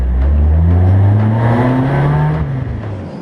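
Race cars, Works GT cars up front and A2 class cars behind, rev and pull away at the start of a race, a loud close engine roar whose pitch climbs and then fades.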